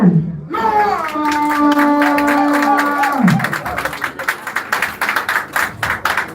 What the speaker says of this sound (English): A round of applause to, of course, the man, Roxy.